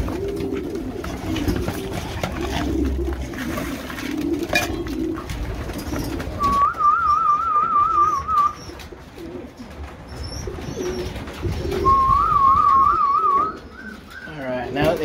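Racing pigeons in a breeding loft coo in two clear warbling bursts, close by, over low rustling and handling noise.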